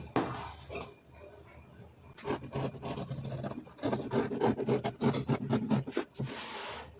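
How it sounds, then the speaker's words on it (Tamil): Scissors cut blouse pieces out of fabric, with three blouses cut at once. Close, repeated rasping strokes and scrapes follow one another in an irregular rhythm. "இப்போ இதை அப்படியே நம்ம கட் பண்ணி எடுத்துடலாம்"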